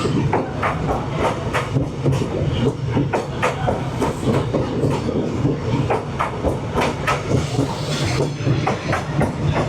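A train rolls through a narrow street in Hanoi, its wheels clattering in a steady clickety-clack close by, loud and continuous over a low rumble with a faint hiss.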